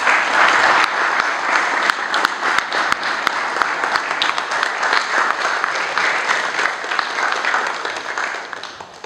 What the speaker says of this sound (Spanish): ¿qué tal si le dedicamos un aplauso a don Eduardo?